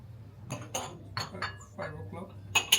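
Teacups and saucers clink while a dining table is set for hospitality service, several light ceramic taps and chinks in an uneven sequence, close and soft, with a voice talking between them.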